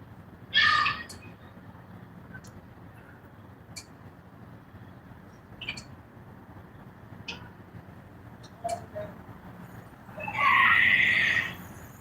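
Seagulls calling outdoors, a few loud squealing cries near the start and a longer burst near the end, separated by quieter scattered calls over steady background noise.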